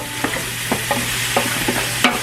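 Onions cook in olive oil in a pan with a constant close sizzle, punctuated by several sharp scrapes and taps of a spoon stirring, alongside a faint steady hum and no voices.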